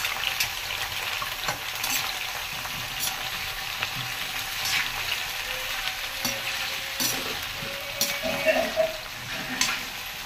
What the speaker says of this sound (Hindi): गोभी भुन गई और गोभी की जो ये फ्राई होने की जो खुशबू आ रही है ना